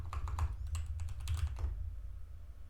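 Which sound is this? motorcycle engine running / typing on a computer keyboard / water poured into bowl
typing on a computer keyboard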